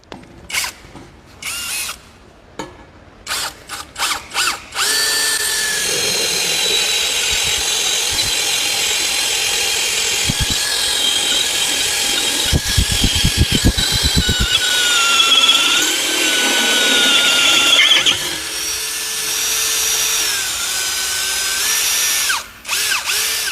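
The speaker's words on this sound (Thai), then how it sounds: "เดี๋ยวเรามาทดสอบเจาะเหล็กนะครับ แบบเต็มกำลังเลย เหล็กหนาเกือบ 10มิลนะครับผม" STR cordless brushless drill with a steel chuck boring at full power through steel nearly 10 mm thick: a loud, steady whine with grinding strain under load after a few short trigger bursts, running continuously for most of the clip.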